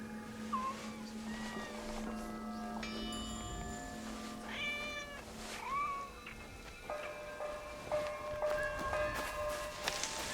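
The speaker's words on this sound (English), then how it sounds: "Of course, pet the cat here." Cat meowing repeatedly while being petted in the video game Assassin's Creed Shadows, several short meows over a soft ambient game soundtrack with sustained tones.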